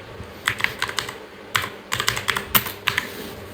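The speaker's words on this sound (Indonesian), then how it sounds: "coba kita mengetik ya" Rapid typing on a computer keyboard in a text editor on a Linux system, with irregular bursts of crisp key clicks close by, short pauses between flurries, and no voices.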